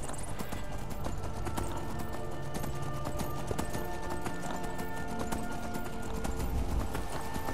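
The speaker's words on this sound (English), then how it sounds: "These wild horses have a lot more stamina than the ones you buy." Wild horse hooves clip-clop in the video game Skyrim, a continuous loud rhythmic patter of steps close by, set over a busy bed of game sound with a possible whinny.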